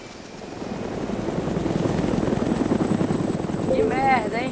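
A helicopter in the video game DayZ drones steadily and fairly close throughout, its rotor and engine noise swelling slightly, with a brief whistling tone near the end.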